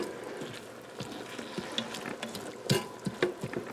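Ground beef browning in a Ninja Foodi pressure cooker, cooked with onions and garlic, with a soft continuous sizzle under repeated scraping and stirring clicks of a utensil against the pot, no voices.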